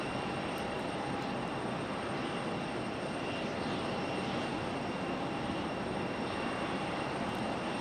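A jet airliner arriving at Raleigh Durham airport drones as a steady, broad engine roar at moderate distance, holding even throughout with no talk.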